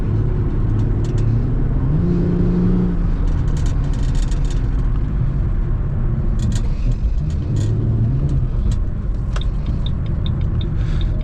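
Muscle car engine rumbling steadily while driving, a loud continuous low drone with slight swells in revs and faint clicks and rattles above it.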